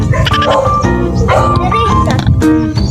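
A dog barks and yips excitedly a few times, close by, over loud overlapping human talk.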